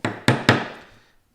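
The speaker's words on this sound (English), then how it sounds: "So now I'll just take a 3/8 inch chisel" Three sharp wooden knocks come close together as a 3/8 inch chisel is struck to square up a beam mortise in a hand-tool woodworking job, each hit ringing briefly before fading.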